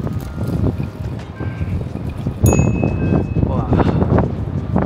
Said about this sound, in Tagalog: Grabe itong hangin.